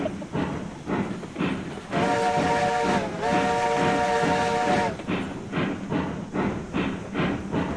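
A steam train running in Railroads Online, with rhythmic chuffing exhaust beats and a long, loud whistle blast in the middle, the chuffing picking back up after it.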